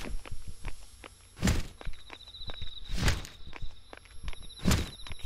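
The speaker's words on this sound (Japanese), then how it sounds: "え、なんか足音聞こえない？" Footsteps in the horror game Yomawari 3, quiet repeated thuds with three heavier steps at roughly even intervals, alone with faint background.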